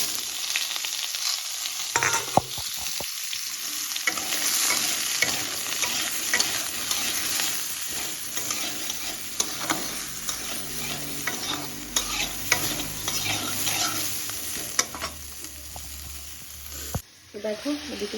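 Eggplant slices fry for begun bhaja, a loud continuous hiss of hot oil with scraping stir strokes breaking through now and then, close by, cutting off sharply near the end.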